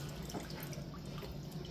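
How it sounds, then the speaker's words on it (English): Dirty wash water drains out of a basin with a soft, continuous trickle and gurgle, quiet and close, with no talk. "I'm going to let this water out because it is completely dirty"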